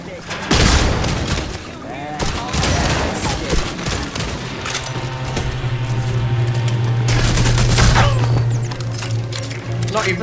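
Rapid automatic gunfire in the video game Redfall, loud bursts of shots with sharp cracks over a low droning hum, mixed with excited talking.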